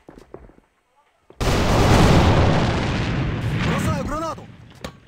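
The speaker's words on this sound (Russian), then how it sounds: "Бросаю гранату!" A grenade blast in the shooter game AVA: one sudden loud broadband explosion after a quiet lead-in, with a long rumbling tail, plus brief voice fragments and a few small clicks around it.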